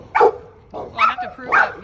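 A puppy gives three short, sharp barks in an even rhythm, close and loud, at a roadside traffic stop outside a home.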